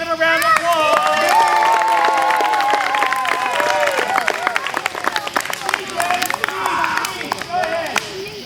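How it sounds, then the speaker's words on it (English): A small group at a campsite applauds for a birthday, a burst of brisk clapping that thins out over several seconds while cheers and talk carry on over it. "a round of applause"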